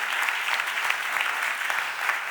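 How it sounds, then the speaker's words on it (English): Applause in the chamber at a Philadelphia City Council stated meeting: dense, steady clapping from a room full of people that holds at an even level throughout. "Please give them another round of applause."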